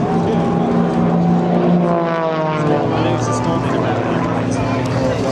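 Matadors aerobatic propeller planes with six-cylinder Lycoming engines flying past at an airshow, a loud droning engine note sweeping down in pitch as they pass, with an announcer talking over it.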